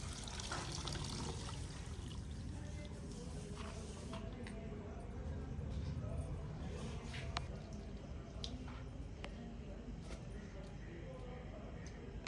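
Mustard greens are swished and rinsed by hand in water, giving quiet intermittent splashes, drips and wet squishes close by, with soft talk in the background.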